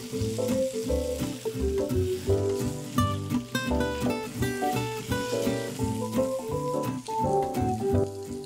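Duck breast (magret) searing in a pan with thyme and rosemary gives a steady, close sizzle that runs throughout, largely covered by louder tonal music on top.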